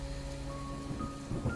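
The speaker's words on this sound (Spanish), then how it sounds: "Una tormenta eléctrica golpeaba la ciudad." A thunderstorm over a city, with a steady wash of rain and a low rumble beneath it. The sound is moderate and unbroken, and a faint tonal hum sits in the background.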